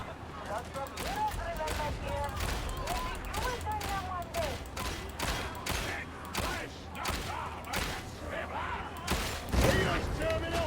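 Rapid bursts of gunfire in Warhammer 40,000: Darktide played as a Veteran, with repeated shots and volleys throughout and voices talking over them.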